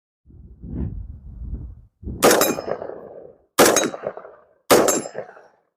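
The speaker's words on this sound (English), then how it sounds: "we're going to shoot some rounds downrange at a A-zone silhouette still target" Gunshots fired downrange at an A-zone silhouette still target, heard as three loud, sharp reports spaced about a second apart, each with a ringing tail, following a short muffled rustle.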